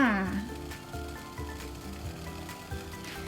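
Water boils hard in a steamer on the stove beneath a pumpkin egg custard, giving a soft, continuous bubbling hiss. A voice talks over it at the start.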